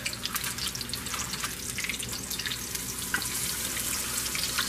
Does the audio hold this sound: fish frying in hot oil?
yes